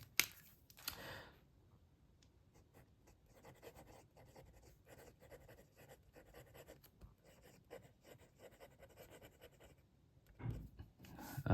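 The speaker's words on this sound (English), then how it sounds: "Let's do some writing." A Faber-Castell Essentio fountain pen with an extra fine steel nib, inked with Caran d'Ache Infinite Grey, scratches steadily and faintly across paper at close range, with a few louder handling clicks at the start and end.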